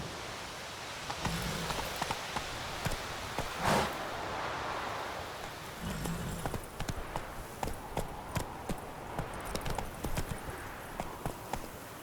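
Roach the horse trotting in The Witcher 3, a steady run of hoof clip-clops on the ground over a soft rustling background, moderately close, with no voices.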